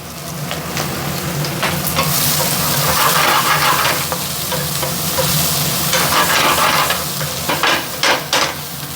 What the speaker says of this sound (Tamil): ஆனியன் ஆட் பண்ணிக்கிறேன். இந்த ஆனியனை ஃப்ரை பண்ணிக்கலாம்.